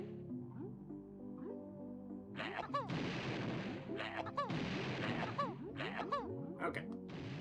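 Grenade egg explosions in Banjo-Tooie, several sharp booms with whistling, descending tones sounding in quick clusters under a player's excited talking.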